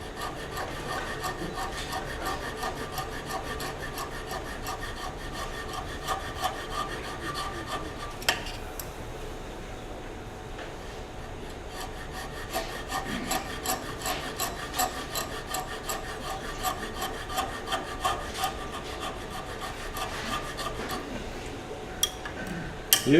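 A handsaw cuts notches into a wooden cryptex piece on the lathe project, giving a soft, steady rasping stroke that repeats evenly and fairly quietly close up, with no one speaking.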